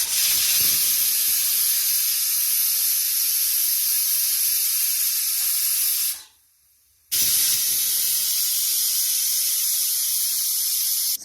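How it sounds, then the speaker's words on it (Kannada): A pressure cooker of mutton soup vents steam in a loud, continuous hiss, breaking off into silence for about a second before the hissing resumes just as strongly. "ಇದಕ್ಕೆ ಒಂದು 10 ವಿಸಲ್ ನಾನು ಇವಾಗ ಓಡಿಸ್ಕೊಳ್ತೀನಿ"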